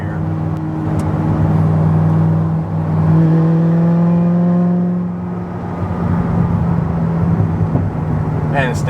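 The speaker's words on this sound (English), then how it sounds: "The factory exhaust sounds good, especially when the cam wicks it up." A 2009 Corvette ZR1 with over 750 wheel horsepower and factory exhaust revs and holds a steady drone, with pitch rising and falling between pushes, close and loud.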